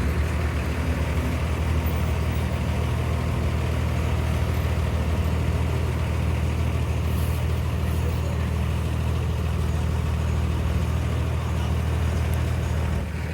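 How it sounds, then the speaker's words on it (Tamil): A Tamil Nadu state TNSTC express bus on a Palani to Cuddalore run pulls away, its heavy diesel engine giving a steady low rumble that fills the cabin evenly throughout with no voices. "அப்படியே நம்ம வண்டி கிளம்புது பாருங்கள்"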